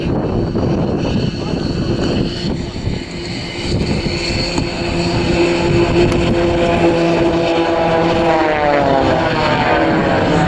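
Propeller aerobatic display aircraft at the final RAF Leuchars airshow in 2013 fly towards the crowd, a loud continuous engine drone whose pitch slides as the planes close in, with crowd and commentary noise beneath.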